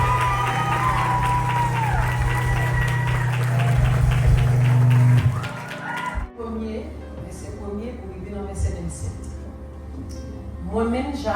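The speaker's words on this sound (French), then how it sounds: "Applaudis." An audience applauds at a Bible recitation challenge, a dense wash of clapping and cheering mixed with voices and music. It holds steady for about five seconds, then drops away as quieter speech takes over.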